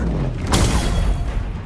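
A Confringo explosive spell cast in Hogwarts Legacy goes off as a single loud, deep burst partway through, then rolls on as a dense, rumbling tail over steady game noise.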